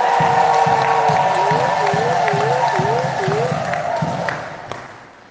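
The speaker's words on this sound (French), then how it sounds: "Acclamez Jésus très fort." Easter Sunday Mass congregation cheering and acclaiming Jesus, a loud crowd roar with shouts and clapping, joined by a singing voice, fading out toward the end.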